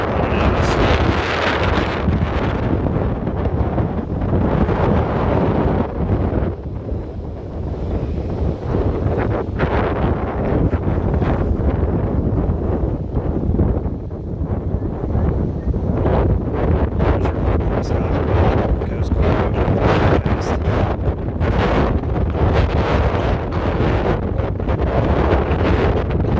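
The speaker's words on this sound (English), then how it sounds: "The wind is blowing so hard, it's hard to face the other way because we're getting blown out." Strong wind buffets the microphone at the Presque Isle North Pier light, a loud continuous roar with gusty surges throughout and faint lake water underneath.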